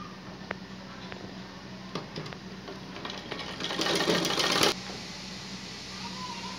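A sewing machine stitching pant pieces together runs in a steady close mechanical chatter, with a louder, faster burst partway through before it settles back, and a voice faintly underneath.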